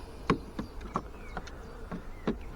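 Honey bees buzzing close by during a hive inspection, in short intermittent buzzy bursts rather than a steady drone, fairly faint against a quiet background.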